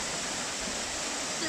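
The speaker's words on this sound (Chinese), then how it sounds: "那这个角度看起来卡佑峰瀑布真的非常的壮观" Kayoufeng Waterfall in Pingtung's Shizi area, a 40-metre drop, gives a dense, steady roar of falling water heard from an upper viewing platform, loud and unbroken throughout.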